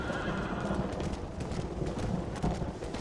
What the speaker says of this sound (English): Which I've never ridden the horse through the river before.